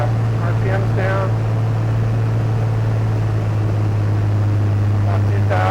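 Navion airplane engine droning steadily in the cabin during a descent with RPM brought down, a loud continuous low hum that never changes, with a voice briefly heard over it.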